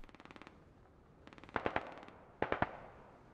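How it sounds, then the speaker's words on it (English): Gunfire in the video game Squad as shots are fired at a convoy, with a distant rattling burst followed by clusters of sharper, closer cracks. "So must be Hovis making some shots on the convoy or something."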